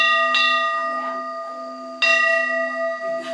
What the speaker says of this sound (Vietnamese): Sám hối con lại mẫu để con xin được thỉnh chuông A Di Đà Phật.